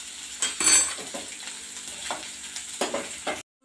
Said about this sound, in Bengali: এরপর 5 ফোড়ন দিয়ে দিলাম।